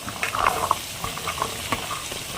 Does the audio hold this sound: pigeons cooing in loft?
no